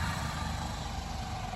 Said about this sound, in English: Oh, that was a garbage truck.